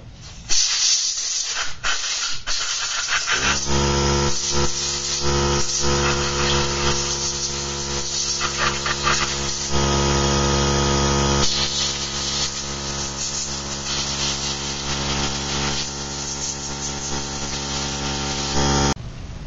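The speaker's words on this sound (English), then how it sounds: "take a power dryer with compressed air, and you really just want to dry the brush down" A loud, steady blast of compressed air hisses continuously as it blows dry a brush used to clean a Glock 22 pistol, with a machine hum underneath and brief bursts near the start.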